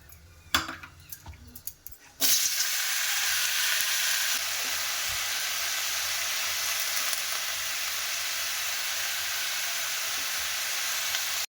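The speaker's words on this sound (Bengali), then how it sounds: "এই তো আলু ভাজা করব আর বড়ি ভাজা করব।" Potatoes and lentil dumplings (bori) fry in a pan: a few light clinks and handling sounds come first, then a loud, steady close sizzle sets in and continues unbroken.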